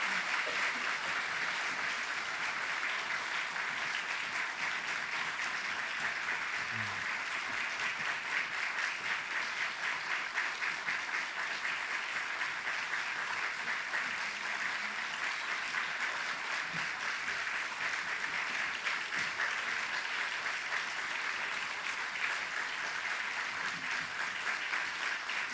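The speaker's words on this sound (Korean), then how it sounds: "우리 교역자들이 인사할 때 큰 박수 부탁드립니다" A church congregation claps as the ministers bow, sustained steady applause from a large crowd that holds an even level throughout, with no speech over it.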